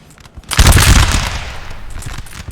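Musket volleys crackle through wooded terrain in a Napoleon Total War multiplayer battle, a dense burst of overlapping shots swelling loudly after a quiet start, then thinning into a sustained rolling rattle with no talk.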